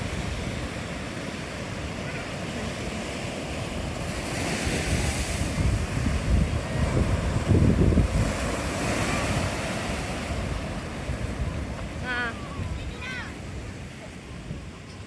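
Sea waves wash onto the beach at Bayu Balau Beach Resort in Johor, a constant roar of surf with gusting wind buffeting the microphone and voices faintly mixed in.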